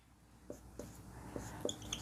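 Marker or chalk writing a polynomial expression on a board during a Class 10 maths lesson, several light taps and scratchy strokes in an uneven rhythm, faint and close with no voice.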